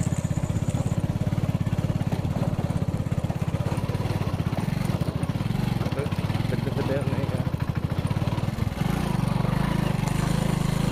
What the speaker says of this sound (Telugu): ఇక నా బండి ఉండి మా రాజుగాని ఎక్సెల్ బండి అయితే నడుస్తున్నాయి.